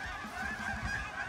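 Flock of geese honking continuously during a Texas goose hunt, a mix of specklebellies (white-fronted geese) and snow geese calling in dense overlapping clamor, fairly near, with no talk.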